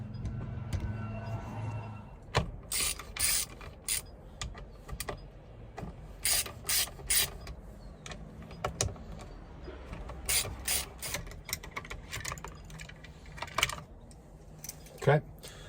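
A driver ratchets out T20 Torx screws from a Sprinter van steering wheel, with close, quick clicking bursts repeating irregularly after someone speaks briefly at the start.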